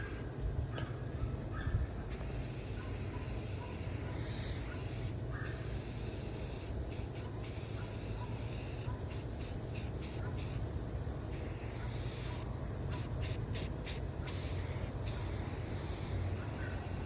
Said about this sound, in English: I think I'm gonna spray one coat, let it dry.